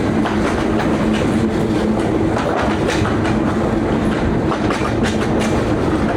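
A slow passenger train running from Kurigram to Chilmari rumbles steadily with rhythmic clickety-clack of wheels on rail joints, loud and close throughout, with no talking.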